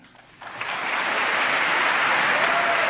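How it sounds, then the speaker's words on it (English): Sustained applause from a large audience in the chamber of the US Congress during Benjamin Netanyahu's address, swelling in after a quiet moment and holding steady and loud to the end. "Netanyahu's 40-minute address was interrupted 43 times for applause"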